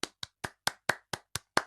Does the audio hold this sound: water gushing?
no